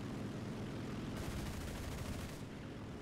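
Aircraft guns of an A7M2 fighter in War Thunder fire in a sustained rattling burst that grows denser partway through, over a constant roar of engine and wind.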